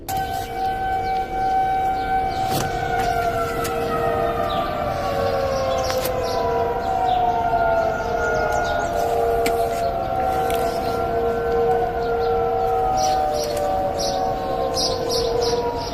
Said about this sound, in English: His neighborhood by the woods is filled with the sounds of sirens on his block, even though none can be seen.